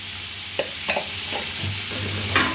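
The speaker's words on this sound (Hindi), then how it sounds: "कढ़ाई गर्मी है तो अभी हम इसमें डाल देते हैं आलू।" Potatoes in a hot kadhai with a little mustard oil and a pinch of turmeric fry with a soft, steady sizzle, with a few light stirring scrapes at close range.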